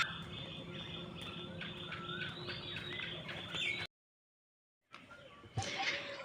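Birds chirp around a home yard, faint scattered calls over a low background hum for a few seconds, followed by a silent gap and then some nearer household noise.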